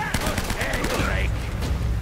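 Rapid gunfire from Uncharted: Drake's Fortune rattles constantly as bullets hit the player, a dense fusillade of sharp cracks mixed with game effects and a voice underneath.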